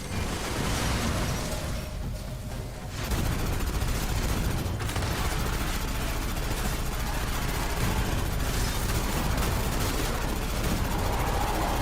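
Sustained magazine-dumping gunfire in the video game Aliens: Fireteam Elite 2, a dense continuous roar of rapid shots with a brief lull near the start, loud and close with no talking.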